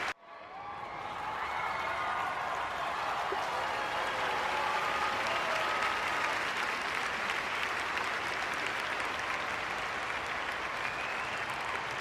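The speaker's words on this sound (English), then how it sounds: "It's crowd noise during the toss-up" A large crowd in a PSVR2 tennis game claps and murmurs steadily during the toss-up, a dense wash of applause that swells in quickly and holds at an even level throughout.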